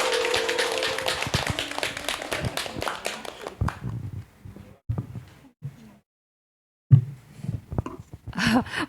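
An audience at a tea-and-life culture salon claps for a speaker, a dense burst that thins into scattered individual claps, a pause of silence, then a few more stray claps.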